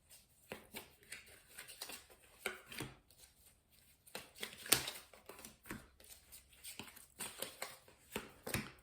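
Tarot cards being handled and drawn, a series of soft close slaps, flicks and rustles in irregular bursts, quiet with pauses between them and no speech.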